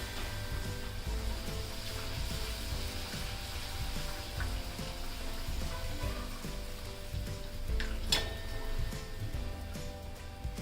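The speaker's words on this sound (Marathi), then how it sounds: "याच पद्धतीने ना मी सर्व पुऱ्या तळून घेते." Beetroot tomato masala puris deep-fry in hot oil on medium to high flame, giving a steady close sizzle and crackle, fairly quiet, with a few sharper pops.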